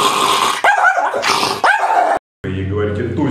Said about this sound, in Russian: Собака у вас что-то там делает не так